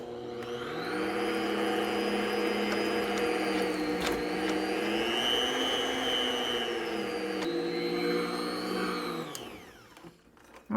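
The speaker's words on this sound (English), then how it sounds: "And turn my mixer on again." An electric kitchen mixer whirs steadily and loudly for about nine seconds, its pitch shifting slightly under load, then winds down near the end.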